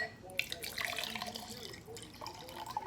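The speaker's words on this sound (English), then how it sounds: "And then I'm going to pour my vinegar over it." Vinegar poured over an egg in a clear glass, a light trickling, splashing pour with small drips, close and fairly quiet, no talk during the pour.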